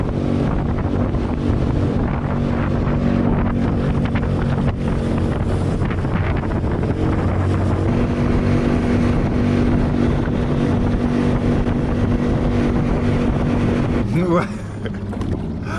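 A homemade skiff with a low-horsepower motor planes across the water. The engine drones loudly and steadily, with wind buffeting the microphone, then the sound cuts abruptly to a quieter rush near the end.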